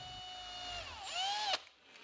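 Power drill boring evenly spaced holes through the front of a wooden float frame, a steady high whine that dips and rises in pitch as the bit bites, close and loud, with no talk.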